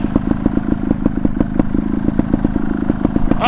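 A trail motorcycle's engine chugs and revs on a forest dirt road at close range, with a rapid, uneven rhythmic pulse and some clattering, alone without talk.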